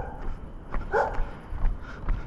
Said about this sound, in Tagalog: Ngayon bago yung aso eh.